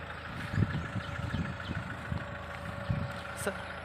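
A 2012 Mahindra XUV500 W8 engine idles quietly and steadily, a soft low hum running beneath nearby voices.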